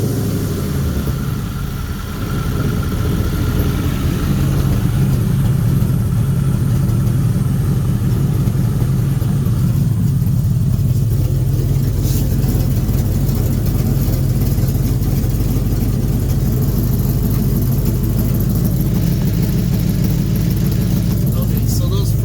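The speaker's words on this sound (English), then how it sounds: "we'll give it just a little rev." A Lincoln Mark VIII V8 engine, freshly repaired with slightly loose front exhaust manifolds, idles with a steady, loud low rumble and gets a light rev, running continuously up close.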